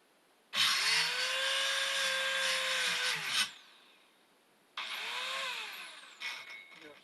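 A reciprocating saw cuts off the stand stick of a Skinner Lockjaw master mold, two loud buzzing runs, the first about three seconds long, the second shorter after a pause.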